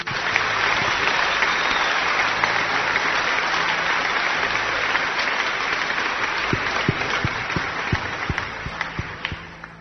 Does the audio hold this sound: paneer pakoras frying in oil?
no